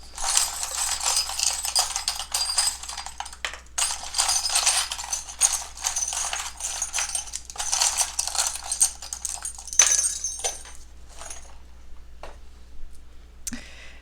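Small hard charms rattle and clatter continuously as they are shuffled and spilled by the handful, a bright jingling cascade up close with a few final clicks.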